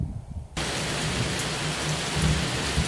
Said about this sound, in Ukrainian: Розпочалася літня гроза.